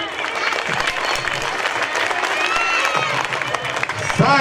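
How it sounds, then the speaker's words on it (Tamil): Audience applause fills a school award ceremony hall, a steady, dense clapping from many hands held at an even level throughout, with a brief louder swell near the end. "கைத்தட்டல்."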